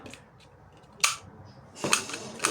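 Sharp clicking pops from a toy gun fire a few times, with short pauses between the shots.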